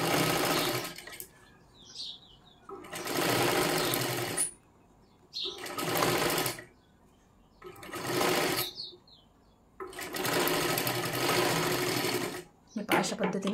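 A sewing machine stitching the seams of a size 38 princess blouse runs in five loud, close bursts of rapid whirring, separated by short pauses in which a voice talks.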